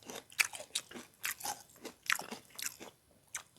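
Crispy fried catfish with tomato sambal being eaten up close, giving a quick series of sharp, crunchy bites and chews in an irregular rhythm, with no talking.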